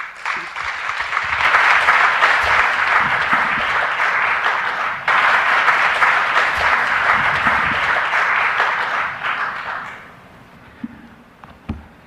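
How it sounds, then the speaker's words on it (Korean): Sustained applause from an audience welcoming a Catholic priest at an event at Yanghwajin, the Korean Catholic and Protestant holy site, swelling quickly, holding steady for about nine seconds, then fading to a few scattered claps. "이제 신부님께서 나오실 때 큰 박수로 맞아주시면"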